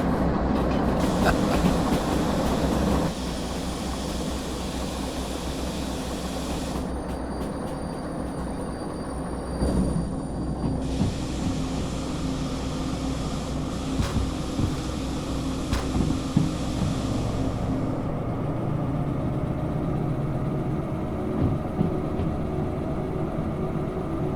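A long train in the video game Derail Valley rumbling steadily along the tracks, with continuous low mechanical drone and occasional clanks, loud and sustained throughout with no talk.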